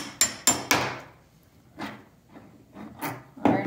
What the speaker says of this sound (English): so we're just going to take the hammer.